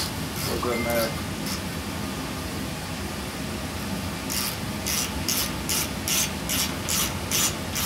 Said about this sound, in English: Since you're chasing through threads, you should not need any lubricant.